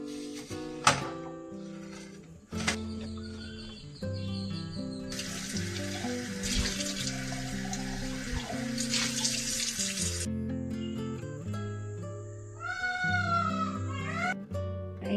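Plates are washed under a running kitchen tap, a steady stream of water splashing for several seconds amid clinks and handling noises, with soft music playing underneath.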